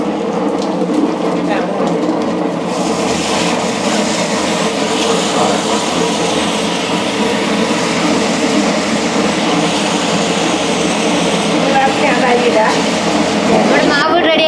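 A machine grinds soaked raw rice for Palakkad-style murukku, a continuous loud rumbling whir that holds steady throughout, close by, with people speaking over it.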